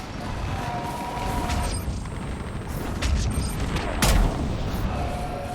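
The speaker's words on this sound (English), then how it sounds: "On that building! We've got fire support!" Fire support gunfire on Thessia in the Mass Effect 3 video game, a continuous battle din of booming shots and rumbling impacts with a louder blast near the end, under a dense wash of combat noise.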